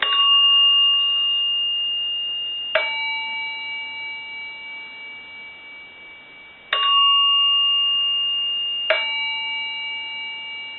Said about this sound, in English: I'll go ahead and ring the chime.